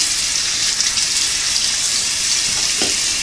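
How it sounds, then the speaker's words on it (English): Running water from a tap rinsing a comb, a steady close hiss of flowing water with a brief splash near the end and no talk. "So I'm just rinsing out my comb real quick because this stuff does dry sticky"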